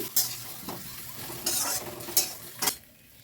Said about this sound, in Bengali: কাঁচা টমেটোটা দিয়ে আবারও সব কিছু ভালো করে মিশিয়ে নিচ্ছি